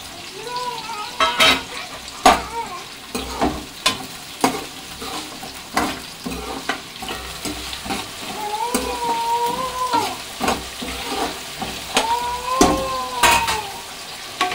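Onion and green chili fry in a pan for chicken curry, with a steady sizzle under repeated sharp scrapes and knocks from stirring, fairly loud and close, while a voice talks intermittently in the background.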